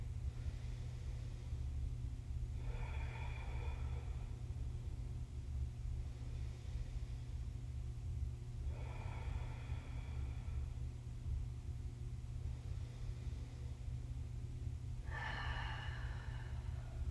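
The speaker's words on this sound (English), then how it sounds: "Oops, sorry, that's my dogs." Dogs snorting and breathing heavily in a quiet room during a yoga session, three separate bursts of snuffling spaced several seconds apart over a steady low hum.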